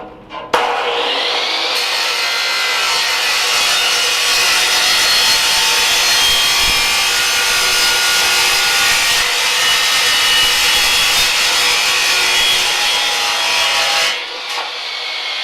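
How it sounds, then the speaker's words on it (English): Saw fitted with a Lenox Metal Max blade cutting a piece of aluminum: a loud, sustained high-pitched whine and grinding rasp lasting about thirteen seconds, starting abruptly and ending with a drop to quieter spin-down. "I'm going to go ahead and take this piece of aluminum and cut it"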